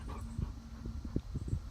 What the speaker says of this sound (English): The dog's out here.